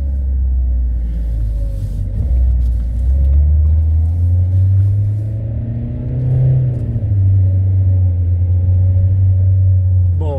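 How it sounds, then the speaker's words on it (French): A car engine with a faulty mass airflow sensor drones under full throttle, its pitch rising slowly and sluggishly before dipping back to a steady low rumble, loud and close. "Et pédale à fond, elle veut pas monter. Elle monte doucement, doucement, doucement dans les tours."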